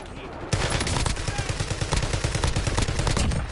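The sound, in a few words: sniper gunfire in a video game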